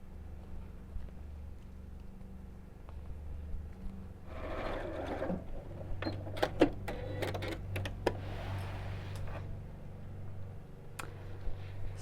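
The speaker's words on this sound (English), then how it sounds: "then we'll sew all the way around again" A sewing machine runs quietly around the seam of a child's backpack, a low steady hum broken by scattered sharp clicks and ticks in the middle.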